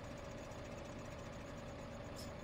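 Tractor engine in Farming Simulator 15, struggling on a hilly Great Smoky Mountains map, holds a steady low droning hum with a faint knocking rhythm, fairly quiet and with nobody talking.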